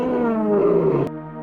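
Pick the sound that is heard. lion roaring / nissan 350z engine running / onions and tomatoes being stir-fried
lion roaring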